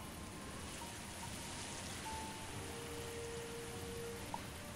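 Steady, soft rain hiss in the farming video game Of Life and Land, a faint, even wash of noise with a few quiet tonal game sounds on top and no talking.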